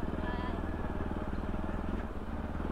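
A small motorbike engine runs steadily on a slippery road, with a continuous buzzing rumble throughout, moderately near, while people talk over it.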